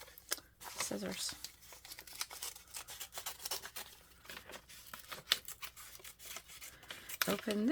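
Scissors snip through paper while a craft journal is being opened up, quick crisp cuts and rustling paper close to the listener, with a person talking throughout.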